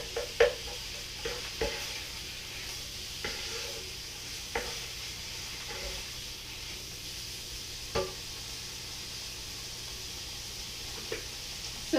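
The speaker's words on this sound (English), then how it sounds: "I'm going to saute that up a little" Garlic sautéing in a pan for beef and broccoli, a soft continuous sizzle broken by scattered light clicks and scrapes of a utensil against the pan, with no talking.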